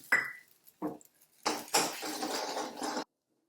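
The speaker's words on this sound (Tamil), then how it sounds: "இன்னொரு முட்டையும் போடுறேன்" An egg cracked and dropped into a pan while cooking a mung bean and egg stir-fry: a sharp clink, a second tap, then a sustained sizzle as the egg hits the hot pan, fairly close.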